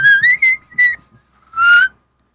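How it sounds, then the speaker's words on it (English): A shepherd's dog whistle is blown in several short pitched blasts, then one longer blast that slides upward, loud and close, with silence between the calls. "It's a shepherd's dog whistle."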